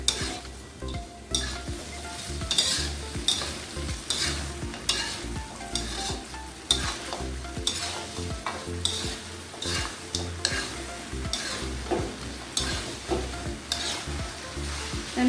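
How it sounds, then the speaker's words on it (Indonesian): A spoon stirs chicken feet frying in chili sauce and sweet soy sauce, giving a steady loud sizzle with repeated scraping and clattering strokes in the pan, up close and with no talking. "Ini diaduk."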